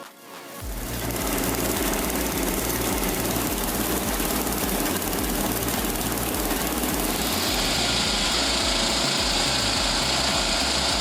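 Homemade firewood processing machine running with a steady, loud mechanical engine drone and dense clattering, holding at constant level throughout, with a brighter high-pitched hiss entering near the end.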